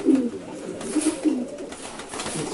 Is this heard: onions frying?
no